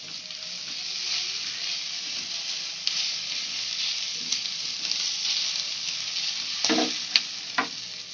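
Egg poured over already-fried vegetables in a hot pan for Hakka noodles, sizzling steadily up close while a spatula stirs, with a few sharp scrapes and clinks near the end and no talking.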